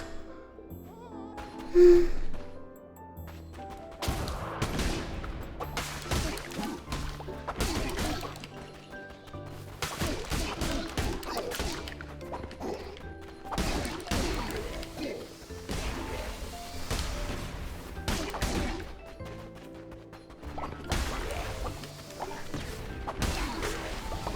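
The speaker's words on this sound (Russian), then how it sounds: "Тут все взрывается." Explosions in the video game Cult of the Lamb: repeated bursts, crashes and thuds over steady game music, with a voice now and then.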